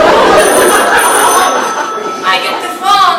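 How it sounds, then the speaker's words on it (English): A telephone rings loudly with a bright, trilling bell that repeats in short bursts, with speech over it. "I get the phone. Let me get the phone."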